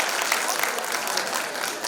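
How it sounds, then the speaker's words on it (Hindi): Steady applause from a school annual function audience, a dense even wash of many hands clapping close up for the performers, with no pauses across the stretch. "तो एक बार जोरदार तालियां इन खूंखार कलाकारों की खूंखार प्रस्तुति के लिए।"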